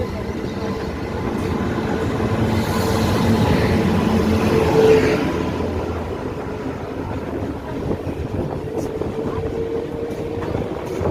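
The Dhanbad-Howrah Black Diamond Express approaching Howrah, heard from a moving train: a broad rushing rumble swells to a peak near the middle, then gradually eases off, with faint rail clatter underneath.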